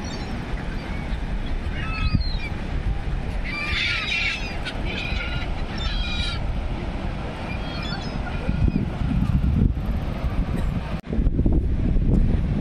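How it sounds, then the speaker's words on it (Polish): Strong wind roars steadily across the microphone on a seaside pier in Kołobrzeg over a rough sea, with occasional bird squawks breaking through and a brief dropout near the end. "bardzo wietrznie na molo."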